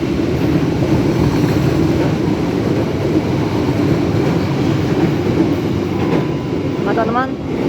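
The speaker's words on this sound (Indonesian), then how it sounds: "telah melintas langsung di jalur 7 stasiun Cikarang" A train runs straight through Cikarang station on track 7, a loud, continuous rumble and rolling roar close by with faint squealing near the end.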